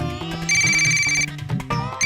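A mobile phone rings with a loud electronic melodic ringtone, repeating short tonal phrases with steady, sustained high notes, heard up close without talk.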